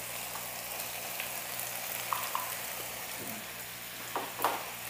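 Chopped potatoes fry with cumin in hot oil, a close, steady crackling sizzle with occasional soft utensil taps and scrapes toward the end, no voices.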